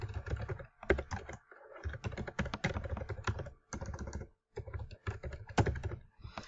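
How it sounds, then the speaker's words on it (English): Rapid keystrokes on a computer keyboard as an email address is typed, clicking in quick irregular bursts with short pauses, close and clear with no voices. "So let's type that in."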